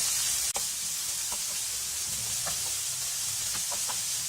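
Vegetables sauté with salt over high flame for potato aloo tikki burger filling, a soft continuous sizzle with a sharp utensil knock near the start and scattered stirring scrapes throughout.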